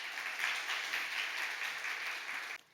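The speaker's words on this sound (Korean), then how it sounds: "우리 박수 한번 하겠습니다" A church congregation at a family worship service claps together in a short, steady burst of applause that cuts off abruptly.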